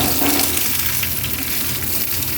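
Hog plum (amra) pieces frying in hot oil and being stirred, giving a steady, dense sizzle that stays close and fairly loud throughout, with no voices over it.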